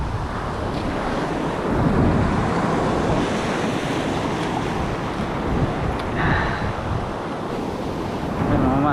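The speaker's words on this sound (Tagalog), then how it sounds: "Malalaki yung alon." Big ocean waves breaking over a reef at sea roar in a continuous, loud wash mixed with wind buffeting the microphone, with no clear pauses between surges.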